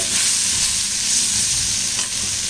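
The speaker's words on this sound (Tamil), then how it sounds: "இந்த வெங்காயம், தக்காளி, பூண்டு, நம்ம இதில் போட்ட அந்த மிளகு, சீரகம், இது எல்லாமே நல்லா வதங்கிச்சு" Steady, continuous sizzling of onions, tomatoes and garlic with pepper and cumin frying in a hot clay pot, with faint stirring noises and no voices.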